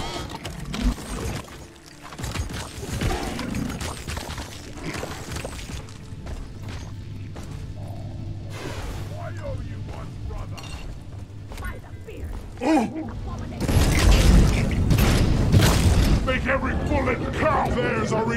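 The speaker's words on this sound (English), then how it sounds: "Supply pod is here." In Deep Rock Galactic, a supply pod drops in with mechanical clanks and creaks, ending in a loud impact rumble near the end, while several players talk over the game sounds.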